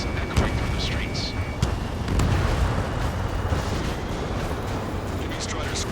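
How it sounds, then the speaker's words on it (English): Gunfire and jets over a city under martial law in the Ace Combat 7 video game: rumbling explosive booms and sharp bursts amid a dense roar, with a voice speaking over it. "The city under martial law, gunfire, jets echoing through the streets."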